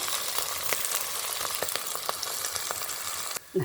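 Mustard seeds, chili, ginger and garlic fry in a pan with a dense, steady sizzle and scattered sharp pops, the sound cutting out abruptly near the end before a brief clatter.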